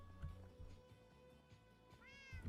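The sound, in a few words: cats meowing in cat cafe, Minecraft video game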